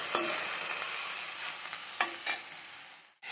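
Vallari leaves cook in a pan for a chutney with a steady, fine sizzle throughout. A few sharp clinks of stirring stand out, and a brief quiet gap comes near the end before the frying resumes.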